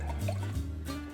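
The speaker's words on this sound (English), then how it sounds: "now I'm ready to pour" Wine being poured into a glass, a brief gurgling trickle of liquid heard close up with no talking.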